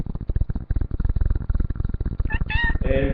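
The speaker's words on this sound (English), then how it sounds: "my cat, Sir, makes his debut on the channel." A pet cat purrs close up, a steady rhythmic rumble of repeated pulses that runs throughout, with a brief meow near the end.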